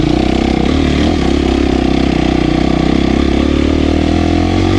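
Dirt motorcycle engine riding a single track trail at Hollister, a loud steady droning roar held close throughout with little variation, no talking.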